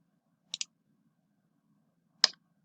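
Computer mouse clicks while confirming an OK dialog: a quick double click near the start, then a single sharper click about two seconds later, close and fairly quiet against a silent background.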